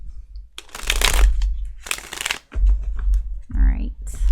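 Tarot cards being shuffled by hand in a few loud, close bursts of riffling and shuffling, with brief pauses between them and a short bit of voice near the end.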